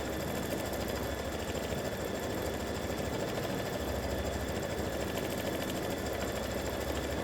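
An embroidery machine stitches a cross-hatch decorative fill in the center of a turkey-and-football mug rug, giving a steady, continuous mechanical hum and rapid needle rattle at an even level throughout, with no voices.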